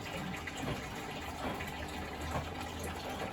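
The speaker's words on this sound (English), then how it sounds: "Now it's pumping out again, so the pump works fine." Water gushes and churns steadily as the pump of a Bosch Exxcel 1600 Express washing machine, which has a failed drum spider, drains it out, with a low mechanical hum underneath.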